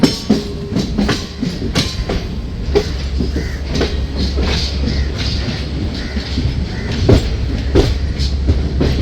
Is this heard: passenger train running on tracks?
yes